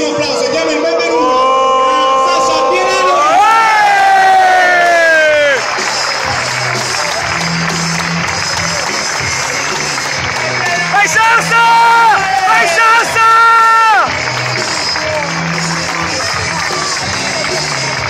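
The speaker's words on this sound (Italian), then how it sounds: "Ragazzi, facciamo un grandissimo applauso, diamo il benvenuto." A crowd applauds and cheers to welcome newly presented Messina football players, loud clapping and whoops mixed with a voice and bursts of music or horn-like tones throughout.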